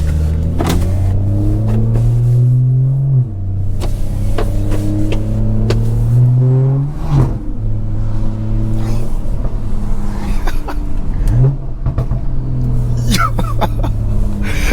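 A loud aftermarket exhaust on a cold BMW 340i with a B58 engine rumbles at idle, then revs up several times, each rev swelling and dropping back into a deep, uneven burble.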